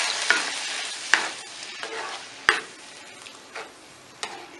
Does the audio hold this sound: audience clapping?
no